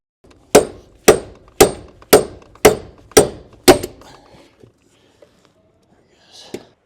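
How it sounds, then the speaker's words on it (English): A hammer drives a body mount through on a 1980-96 Ford Bronco: seven loud, evenly spaced metallic blows about half a second apart, followed by quieter shuffling and one faint knock near the end. "On some positions, it might just be easier to pound it through."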